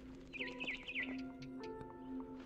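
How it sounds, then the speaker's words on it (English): A barn swallow chirps outside a window in the video game What Remains of Edith Finch, a few quick rising-and-falling tweets followed by softer notes over faint ambient music. "Then I heard chirping outside my window."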